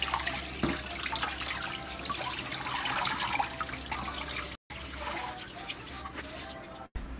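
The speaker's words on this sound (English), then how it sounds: "Give the calyxes a good rinse." Roselle calyxes rinsed under a running tap, a steady broadband splash of water that continues throughout, with brief cuts near the end.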